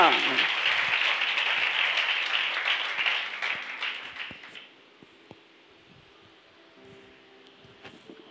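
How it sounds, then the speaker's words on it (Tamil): An audience at a Bible study message breaks into applause, a full wash of many hands that holds for about four seconds, then thins and fades into a quiet room with a few faint knocks. "நல்லா கைத்தட்டுங்க"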